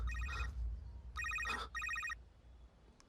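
A telephone rings in a tense scene of a Hindi-dubbed horror thriller, three short bursts of bright electronic trilling with pauses between, loud and close, no talk over it.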